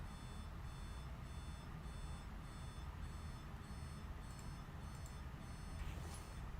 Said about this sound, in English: Oh, there goes my alarms.